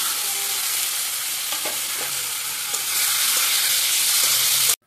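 Potatoes and onions fry in a pan with a steady, loud sizzle, broken by a few scraping stirs, before the sound cuts off abruptly near the end.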